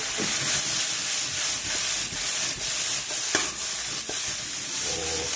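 Onion leeks stirred into a hot pan for a Filipino sauté of talbos ng sayote, a steady loud sizzle with a few scraping stirs and no talk.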